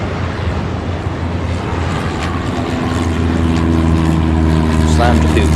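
A jet taking off in the airport-control game Airport Madness gives a loud, steady engine roar that swells slightly toward the end, with a voice talking over it.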